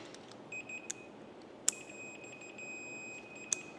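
A multimeter set to continuity beeps while testing a switch on an old Honda Dream motorcycle, giving several short, high electronic tones over a quiet background, with sharp clicks of the probes.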